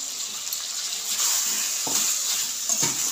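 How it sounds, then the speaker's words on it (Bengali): Chicken and chopped tomato stir-fried in a pan, a steady close hiss of sizzling broken by a couple of scraping stirs, with no voices. "মাংসটা আমি ভালো করে কষিয়ে নেব।"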